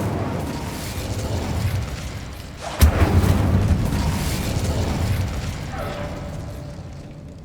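An Incendio fire spell cast in the video game Hogwarts Legacy bursts out as a single sharp booming pop, followed by a rumbling whoosh that swells and slowly fades over several seconds against a steady ambient bed.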